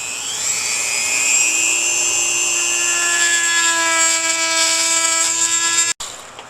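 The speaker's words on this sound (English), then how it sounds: "So we're going to use the Dremel to remove some material around the corner." A handheld Dremel rotary tool cutting into boat fiberglass gives a steady, close, high-pitched whine. Its pitch drops slightly as the bit bites into the material, then the tool cuts off abruptly near the end.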